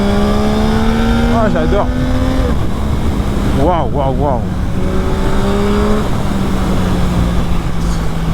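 Yamaha MT-09 2021 motorcycle riding through curves, its engine a loud, steady whine close to the rider with pitch sweeps as revs rise and fall, while the rider exclaims over it.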